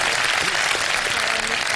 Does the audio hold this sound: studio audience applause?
yes